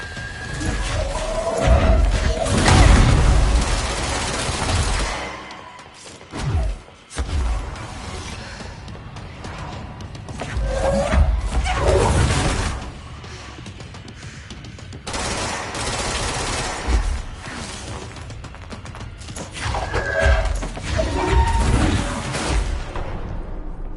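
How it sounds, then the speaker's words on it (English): Laser fire and explosions in the video game Control, loud bursts of rapid crackling fire and heavy booms recurring across the stretch, with dips between volleys and no talk. "I took a face full of that laser. And then whatever that explosion was."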